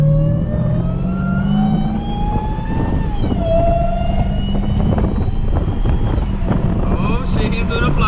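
A car makes a fast flyby in traffic with a rising and falling engine whine over road and wind roar, loud and close, with voices talking through it.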